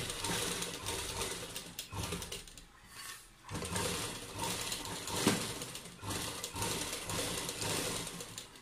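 Sewing machine stitching lace onto a dupatta, a soft, fast mechanical rattle of the needle running in bursts with brief pauses between runs, steady and close.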